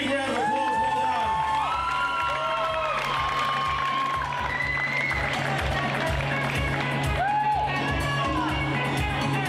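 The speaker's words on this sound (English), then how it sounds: "Let's give these ladies a big round of applause." A crowd at a fitness model championship cheers, whoops and claps for the competitors on stage, a loud sustained mix of shouting voices and applause with steady thumping underneath.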